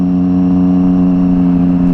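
Loud, steady low rumble of a 2011 Triumph Street Triple 675R motorcycle engine idling close by, a constant droning exhaust tone throughout.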